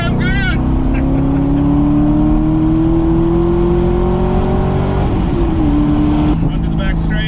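A Corvette Z06 on track at Road America gives a loud, steady engine drone that climbs slowly through a gear, dips briefly on a shift, then carries on, heard from inside the car.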